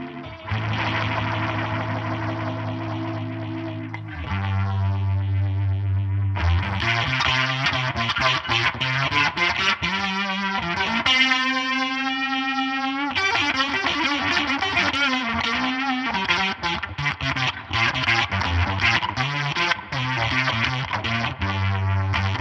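Boss RT-2 Rotary Ensemble pedal shaping a guitar through its rotary speaker effect settings, swirling and shifting between slow and fast speeds, with chorused, warbling sustained chords and distorted passages playing continuously and loudly.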